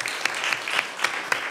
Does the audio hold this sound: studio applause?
yes